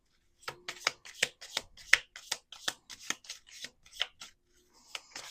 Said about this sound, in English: Let's do some shuffling and see what comes out.